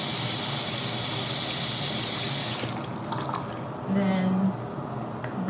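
Water gushes loudly and steadily from a tap while hair is rinsed, then cuts off abruptly partway through, leaving a quieter room with faint handling sounds afterward.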